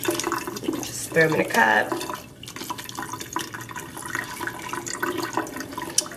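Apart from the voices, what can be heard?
rinsing strawberries under running tap water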